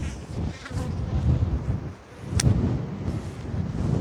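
Honeybees from package colonies buzz steadily and close by, a dense continuous drone with a brief dip midway and one sharp higher tone near the end.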